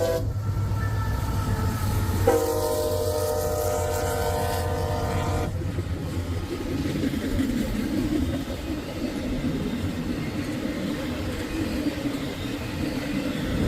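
A westbound freight train passes at Grafton, Ohio, its horn sounding a loud sustained chord early on, then giving way to the steady rumble and rattle of the cars rolling by close up.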